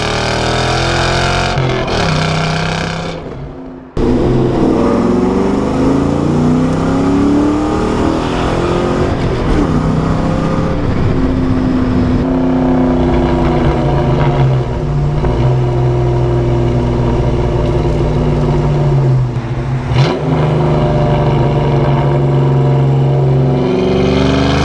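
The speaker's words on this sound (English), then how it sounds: "Sound of the car." A Grabber 2-valve car with a JBA off-road H-pipe exhaust, loud and close, revving repeatedly. Throttle blips rise and fall in pitch, and after a short drop near the start the engine holds through long sustained revs.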